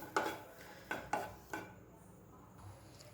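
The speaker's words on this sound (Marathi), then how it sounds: "त्यानंतर हिरव्या मिरच्या थोड्याशा भाजून घ्यायच्या आहेत" Green chillies are dry-roasted in a pan without oil, and a metal spatula clinks and scrapes against the pan in four or five sharp, quiet knocks with near silence between them.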